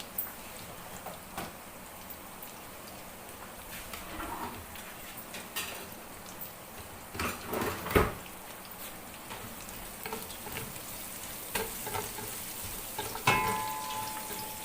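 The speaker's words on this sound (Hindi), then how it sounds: "एक टीस्पून मैंने ज़ीरा डाला है" Cumin seeds sizzle and crackle in hot oil for aloo mattar yakhni pulao, a steady close frying hiss that runs throughout with brief louder pops and a faint clink of utensils partway through.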